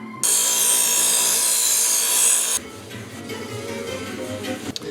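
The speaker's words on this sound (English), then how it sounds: "Wire brush." A wire brush scrubs hard across the sharp edges of a chunky metal steampunk bracelet, giving a loud, steady, hissing scrape for over two seconds before it stops and quieter workshop noise follows.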